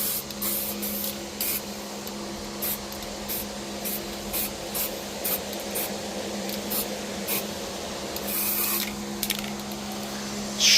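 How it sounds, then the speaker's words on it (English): Primer being sprayed onto a Jeep YJ body during rust repair: a continuous hissing spray with short bursts, heard over a constant steady fan hum. "we're just gonna cover it in primer"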